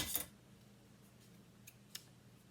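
Scissors snipping through a chalk transfer, a few quick, crisp cuts, faint and close in a quiet room.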